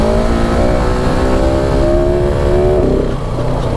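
A 2019 KTM 690 Enduro R single-cylinder dual-sport motorcycle being ridden, its engine droning loud and steady up close with a rising pitch as it accelerates, no talking.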